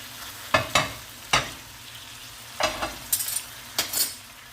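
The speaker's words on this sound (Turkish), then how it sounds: "Daha sonra doğramış olduğumuz taze asma yapraklarını kavuracağız." Chopped fresh grape leaves sizzle in a hot pan while a spoon stirs them in several scraping bursts, close and fairly loud.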